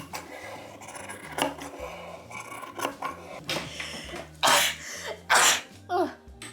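Scissors trim pink fabric lining for a book pouch: a handful of crisp, close snips grow louder toward the end, over soft background music.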